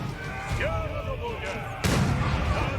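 Cannon artillery fire in the video game Age of Empires IV, during a Moscow versus Lithuania battle: a sharp, heavy boom lands over ongoing battle noise and busy game sounds.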